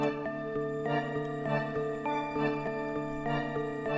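Electra synth plugin melody, pitched up, playing a steady rhythmic pattern of bright plucked notes over a sustained chordal bed, loud and close with no voices.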